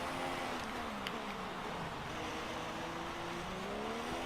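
F1 race cars roar in a racing game at the Russia track, a steady droning engine whine with shifting pitch that continues without a break and sits at a moderate distance.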